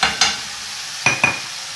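Taco filling sizzles steadily in hot oil in a pan, with a few soft stirring scrapes on and off throughout the close, continuous fry.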